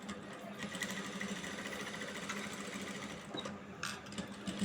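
A sewing machine stitches a maggam work blouse, running with a steady, fast mechanical whir and rattle throughout, close and fairly quiet.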